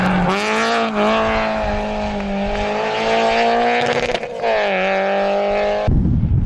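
A rally car passes close by at speed, engine screaming loud and steady with a brief lift and gear change, then cutting off abruptly near the end.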